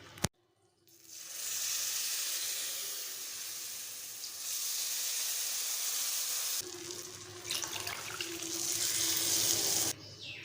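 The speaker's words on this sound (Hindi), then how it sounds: "हम 2 कप पानी के ऐड करेंगे।" Water poured into roasted semolina in a hot pan for suji halwa, setting off a loud, sustained sizzling hiss that swells after a sharp start and surges again partway through, with no voices.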